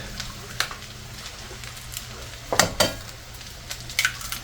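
Eggs dropped into a pan of sizzling chorizo: a steady low frying hiss with a few sharp crackles and clinks of shell or utensil against the pan.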